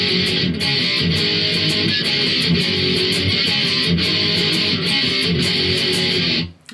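Loud distorted electric guitar works through a song pattern over a driving drum backing track, dense and continuous with regular cymbal hits, stopping suddenly at the close.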